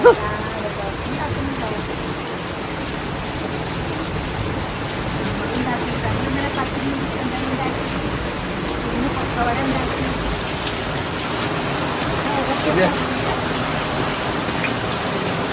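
Rain falls steadily outside a home as a continuous, even hiss that stays fairly loud throughout with no clear breaks.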